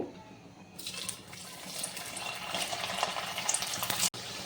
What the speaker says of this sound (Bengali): তো চিকেন কারি করার জন্য প্রথমেই কিন্তু আমি আলুগুলোকে একটু লাল লাল করে ভেজে নেব